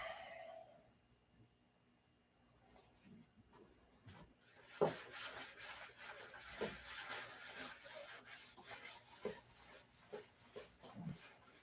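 A hand rubs rhythmically across a panel before polishing, a soft, repeated swishing that starts after a quiet pause and continues in uneven strokes at close range.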